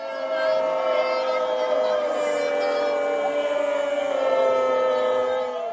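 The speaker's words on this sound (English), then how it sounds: "A stadium filled with sounds of boos." A large stadium crowd lets out a long, sustained chorus of boos aimed at US President Joe Biden, droning steadily from start to finish.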